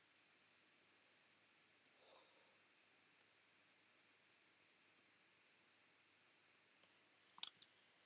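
Computer mouse clicks sound in a quiet room, a few isolated faint clicks spread out, then a quick cluster of sharper clicks near the end, with no talk.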